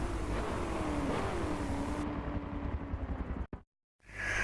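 A Nissan Silvia race car engine in Forza Motorsport 7 roars steadily near the finish line, then fades into a brief cut to silence before a faint sound returns.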